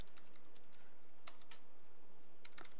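Quiet typing on a computer keyboard while writing C++ code, a light irregular patter of keystrokes with a few sharper taps, close but faint over a soft background hiss.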